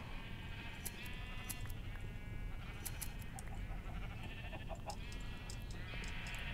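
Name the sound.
sheep bleating in Minecraft (video game)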